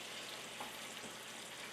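Faint, continuous sizzle of venison stir-frying with noodles and peppers in a pan, a soft hiss with a couple of light stirring scrapes.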